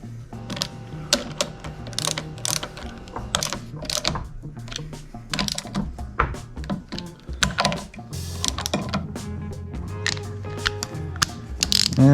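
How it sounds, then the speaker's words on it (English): A wrench ratchets in quick bursts while bolts on a Landcruiser power steering pump are tightened down evenly during a rebuild, the clicks and metallic taps coming close and crisp with short pauses between runs. "You want to bolt these fellas down nice and evenly as well"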